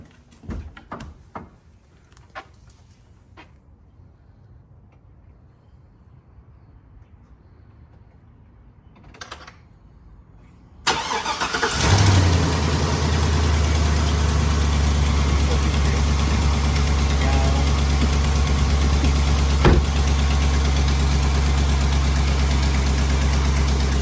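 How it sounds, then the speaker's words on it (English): Chevrolet S10 hot rod engine cranks over from a cold start after weeks of sitting, then settles into a loud, steady, rumbling idle up close after some quiet clicks and rustling. "That was a cold start. We ain't been started in weeks."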